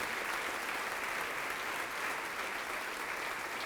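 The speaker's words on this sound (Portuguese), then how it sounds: "vamos aplaudir mais ao Senhor Jesus" A church congregation applauds together, a steady, somewhat distant roll of clapping that stays even and fairly soft from start to finish, with no speech over it.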